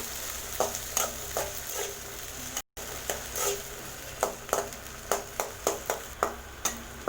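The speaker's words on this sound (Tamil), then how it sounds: "சுண்டைக்காயை தட்டினதுமே எண்ணெயில் வதக்கிடணும்" Crushed turkey berries sautéing in hot oil in a pan, a steady crackling sizzle broken by regular sharp clicks of a spoon stirring and scraping, close and fairly quiet.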